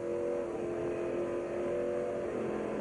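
A race car, the number 5 driven by Trickle, passes in a steady high-pitched engine drone that holds close and loud for a few seconds, then dips slightly in pitch near the end.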